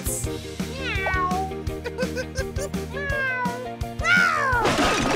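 A voice imitates a cat, giving a string of loud, drawn-out meows that glide up and down in pitch. Soft knocks and thumps fall between the calls.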